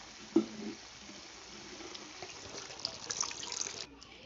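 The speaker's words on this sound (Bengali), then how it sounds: "এবার আমি জল দিয়ে দেবো" Water pours steadily into a pan of bean and potato curry, a soft continuous splashing stream after an initial knock, running for several seconds before cutting off, moderately faint and close.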